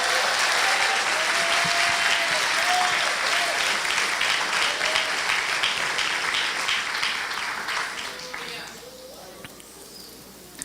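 A church congregation applauds loudly and steadily after a spoken testimony, dense clapping filling the space before thinning and fading toward the end.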